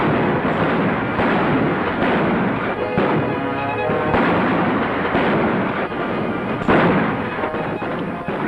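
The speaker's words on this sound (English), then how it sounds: "Pretty good shooting, May." A western film shootout with dense, continuous gunfire: loud overlapping shots and booming reports fill the whole stretch without pause, with a little background voice mixed in.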